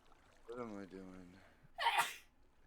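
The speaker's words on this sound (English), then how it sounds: "That was a sneeze?" A person sneezes once, loud and close, after a short voiced sound or brief talk just before it in a quiet room.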